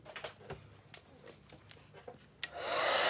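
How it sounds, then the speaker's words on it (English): A few scattered taps and knocks, then a hair dryer switches on near the end and blows loudly with a steady rushing whir. "I'm going to use my hairdryer to dry it, so you'll have to forgive the noise."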